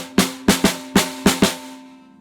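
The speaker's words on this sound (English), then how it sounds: "So if I play it, you can hear it." A snare drum played with the snares engaged against the bottom head, six crisp buzzing strikes in an uneven rhythm, close and loud, the rattle ringing out briefly after the last hit.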